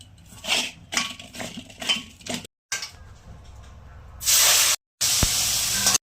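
Prawns fry in hot oil in a kitchen pan: first light clinks and scraping of utensils, then two loud bursts of sharp, spraying sizzle that stop abruptly.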